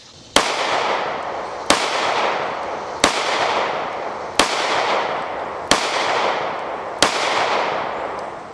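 Girsan MCP35 LW pistol, an aluminum-frame short-slide Hi-Power type, firing Fiocchi ammunition outdoors: six loud sharp shots at a steady slow pace, each with a long echoing decay, no talking.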